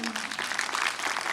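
An audience applauds at a youth theatre workshop's 2024 closing ceremony, a dense, steady patter of many hands clapping together at moderate volume for a short stretch.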